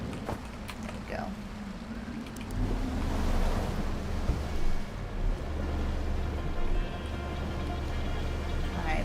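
Steady wash of ocean waves and wind around a small boat sailing in Outer Wilds, a low continuous rumble with soft surf swells and no talking.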